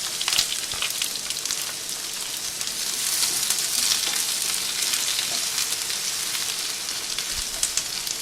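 Chopped onions frying in a pan for a githeri dish, giving a steady, close hiss of sizzling oil that holds at an even level throughout with no voices.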